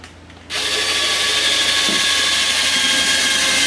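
A power drill driving a self-tapping screw starts after a moment of quiet and holds a loud, steady high whine close by, running continuously to the end without voices.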